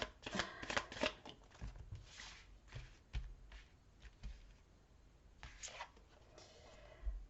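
Tarot cards shuffled by hand in a series of close, soft riffling and tapping bursts, quiet and fairly steady with brief pauses.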